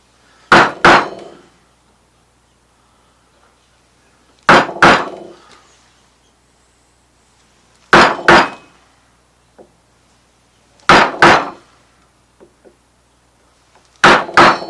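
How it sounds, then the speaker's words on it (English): Wooden mallet striking a narrow gouge while carving curves into a wood drawer front: sharp paired knocks in a steady rhythm, about every three seconds, loud and close with quiet gaps between. "And now, as I said, a narrower gouge to do the inside of these curves."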